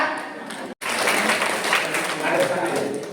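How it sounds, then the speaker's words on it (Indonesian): Audience clapping at an Olylife plan presentation in Pringsewu, a dense round of applause that cuts out for an instant, then continues steadily and fairly loud, with voices mixed in. "Tepuk tangan untuk 3 orang kawan kita yang memutuskan beli"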